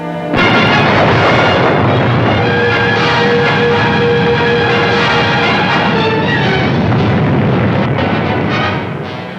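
A nuclear test blast detonated in the atmosphere in the early 1960s: a loud, sustained roaring rumble that rises abruptly and rolls on for about nine seconds, dense and thunderous throughout before easing off at the end.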